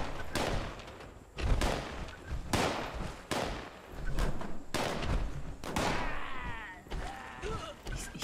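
Gunfire and bullets in the video game Fallout 76, a series of sharp, loud shots spaced roughly every second, some doubled, with whizzing and ringing tails between them.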